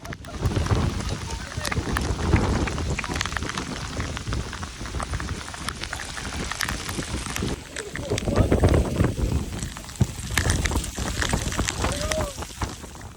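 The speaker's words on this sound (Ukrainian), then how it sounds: "Шквальний вітер та град." Gusty wind buffets the microphone while rain and hail patter and rattle continuously on surfaces, loud and close throughout.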